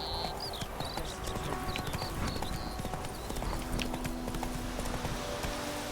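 Horse hooves clip-clop at a steady galloping rhythm in The Witcher 3 video game, a continuous drumming of hoofbeats with faint high chirps layered over a dense outdoor ambience.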